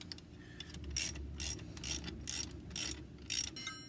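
Ratchet clicking in quick bursts while fasteners are tightened around a bushing on a MILNOR industrial washer extractor, about six evenly spaced metallic ratcheting strokes over a low machine hum, close and fairly quiet.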